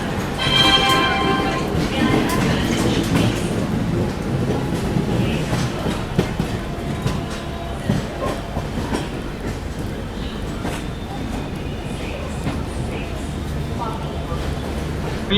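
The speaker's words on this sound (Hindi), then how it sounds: "ट्रेन निकल चुकी है मुजफ्फरपुर जंक्शन से" Vaishali Express rumbling along steadily just after leaving Muzaffarpur Junction, a continuous loud onboard roar with faint wheel clatter and some speech mixed in.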